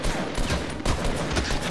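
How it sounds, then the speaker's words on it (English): Dense, continuous gunfire from a Fortnite Battle Royale match, a rapid fusillade of shots filling the whole stretch, loud and close with no pauses. "I'm throwing down cover fire, you guys just run"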